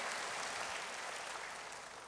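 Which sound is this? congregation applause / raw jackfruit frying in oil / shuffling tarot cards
congregation applause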